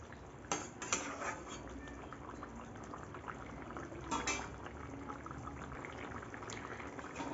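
Mixed vegetable curry with mung dal bubbling in an uncovered pot, a steady soft simmering hiss with a few sharp clinks of a spoon or utensil against the pot near the start and middle.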